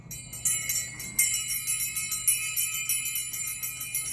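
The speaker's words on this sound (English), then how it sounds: "It's like a mini cowbell." A small handheld bell, likened to a mini cowbell, rings with a bright repeated tinkle in a steady rhythm of quick strikes, close and clear with no talking.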